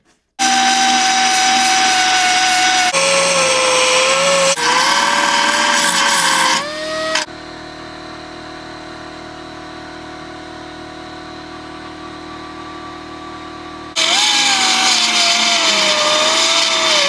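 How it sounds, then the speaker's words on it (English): A power grinder cuts into a car body panel on a 2020 Buick during a rebuild, loud and close with a high whine that shifts pitch as it bites, dropping to a steadier drone midway before the harsh grinding returns. "since we don't care about this panel, we could just grind it down way easier"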